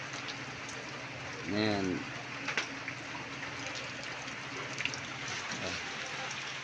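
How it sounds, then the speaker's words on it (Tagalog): Heavy rain pours in a constant rushing hiss, with a brief spoken word rising over it near the start and a few louder splashes. "Malakas ang ulan dito."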